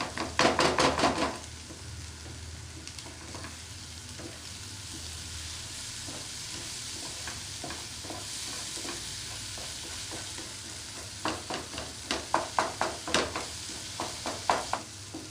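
Egg green fry sizzles and crackles steadily in a pan, with bursts of stirring and scraping near the start and toward the end, close and moderately loud with no talking.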